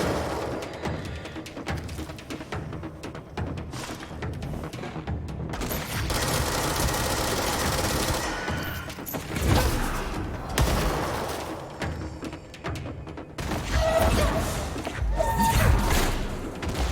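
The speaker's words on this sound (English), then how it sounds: "That's when they started shooting at me." Gunfire in the game Control crackles in dense, sustained bursts with heavy thumps and booms, fairly loud and continuous with short lulls between volleys.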